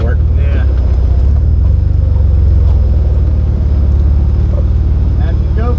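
A Jeep engine rumbles loud and steady at close range while crawling over rocks off-road, a heavy low drone with people talking over it.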